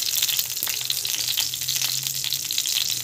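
Cooking oil heats in a pan for a tempering of mustard seeds for carrot rava kichadi, giving a steady, close, bright sizzling hiss that runs unbroken with no talk.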